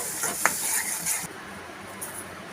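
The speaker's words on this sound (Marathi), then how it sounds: "सगळे मसाले तेलामध्ये मिक्स करून घेऊयात ती चटणी टाकून घेऊया आपण जी वाटून घेतली आहे हलवून घेऊया" Ground chutney is stirred into hot oil with spices for a South Indian idli and dosa chutney, giving a steady bright sizzle with soft scraping strokes that eases off partway through.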